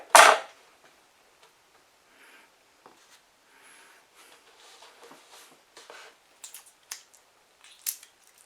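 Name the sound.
knife cutting a cucumber in half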